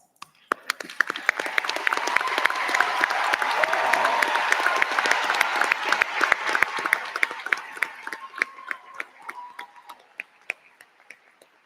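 An audience at a high school commencement applauds standing cum laude graduates, a dense swell of clapping that builds, peaks, then thins into scattered individual claps.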